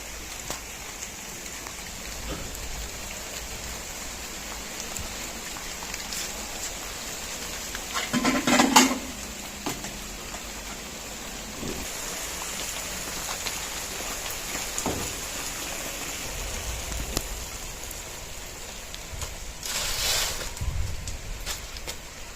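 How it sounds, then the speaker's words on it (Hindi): Rain pours down steadily outdoors around a home as a cooking session begins, a continuous hiss with a clattering knock partway through and brief louder gusts later. "अभी जी बारिश शुरू हो चुकी है"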